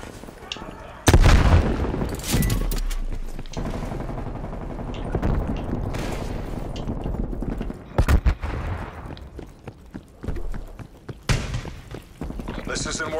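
A frag grenade goes off in Call of Duty Black Ops Cold War: a loud, sharp blast about a second in, amid ongoing gunfire and further bursts across the busy match, with a player talking over the action.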